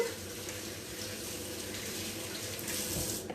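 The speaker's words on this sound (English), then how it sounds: "do wash your hands again with a bit of soap and water" Water runs steadily from a kitchen tap during handwashing with soap and warm water, a continuous close splashing stream with no speech.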